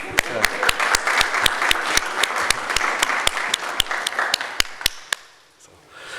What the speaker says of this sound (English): So, ask all of you to give a big round of applause